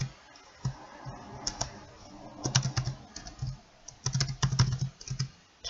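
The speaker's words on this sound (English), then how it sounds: "Now type in your user." Someone types a username on a computer keyboard, tapping out quick irregular bursts of close, crisp key clicks separated by short pauses.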